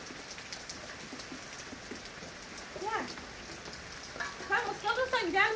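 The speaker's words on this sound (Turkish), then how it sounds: "Yağmur da yağıyor." Rain falls steadily on a garden, a soft continuous patter that stays faint in the background while a person talks over it in the later part.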